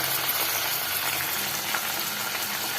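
Cashews fry in oil with green chillies and curry leaves for upma, giving a steady moderate sizzle and crackle with no one talking.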